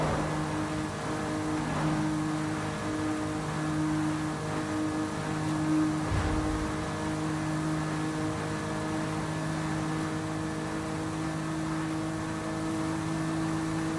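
In Forza Horizon 5, a car engine holds a steady high-speed drone near its top speed. The tone is sustained, even and fairly loud throughout, with no talk.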